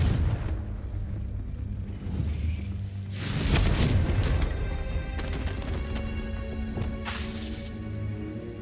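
A Confringo fire spell blasts in the Hogwarts Legacy video game, a broad, loud burst around three seconds in and another near seven seconds, over a steady bed of game music and ambience.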